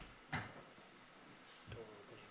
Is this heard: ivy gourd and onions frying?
no